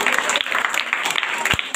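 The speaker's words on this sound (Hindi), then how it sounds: "इन सभी के लिए जोरदार ताली मारिए।" A school audience claps for top students at a prize ceremony, brief dense applause with a few louder individual claps and some voices mixed in.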